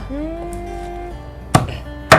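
A traditional alu pestle pounds ingredients for green cendol: two sharp, loud thuds about half a second apart, following a steady tonal hum.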